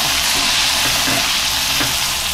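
Dried red chillies, garlic cloves and shallots frying in a pan for chutney, a loud dense continuous sizzle with faint stirring scrapes underneath, close and without speech.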